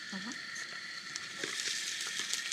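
Mustard seeds, half a teaspoon, sizzle and crackle in a hot pan of oil during Sri Lankan pumpkin curry cooking, a steady close frying hiss with small popping bursts that grows slightly louder partway through.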